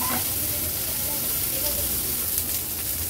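Corn kernels sautéing in oil on a high flame, giving a steady, close sizzling hiss throughout.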